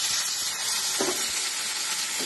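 A steady, loud sizzle of tomatoes frying in hot oil with cardamom and cumin, with a faint stir partway through.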